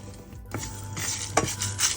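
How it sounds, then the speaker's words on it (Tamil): A utensil scrapes and clinks steadily against a pan as dry spices and garlic are roasted over medium heat for masala powder, with faint sizzling underneath and no talking. "மிதமான சூட்டில் அழகாக வறுத்து எடுத்துக்கலாம்"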